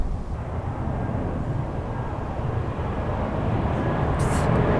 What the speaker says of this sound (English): Planes and trains and everything going over at the same time.